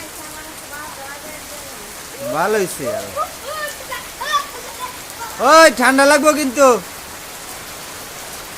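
Heavy morning rain falls in a village, a steady close hiss running throughout while people talk over it in bursts.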